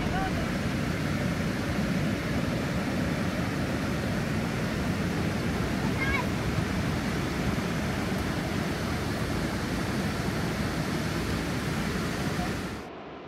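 Constant rushing water roars in the background, a dense, steady wash of noise from a waterfall in Yellowstone, with no break throughout.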